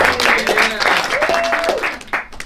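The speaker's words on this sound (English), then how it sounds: "Round of applause for Daniel." An audience at a live magic show at the Magic Castle claps for a volunteer named Daniel; the applause runs close and fairly loud while a voice keeps talking over it.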